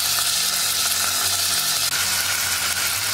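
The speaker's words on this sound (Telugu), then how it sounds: "ఇప్పుడు సన్నగా కట్ చేసి పెట్టుకున్న పచ్చిమిరపకాయలు, ఉల్లిపాయలు కూడా వేసి వేయించుకోండి." Green chillies and onions sizzling steadily in hot oil in a pan, a dense continuous frying hiss with no voices.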